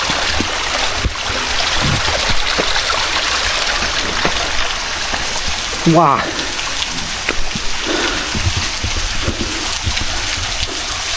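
A small, gently flowing waterfall stream at a temple, steady rushing water close by, with a voice speaking briefly over it.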